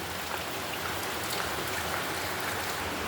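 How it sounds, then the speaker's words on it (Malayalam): Rain falls steadily, a dense, even hiss of drops on surfaces, moderately soft and continuous with no talking. "മഴ ഉണ്ടോ? എപ്പോഴും മഴ തന്നെയുണ്ടോ?"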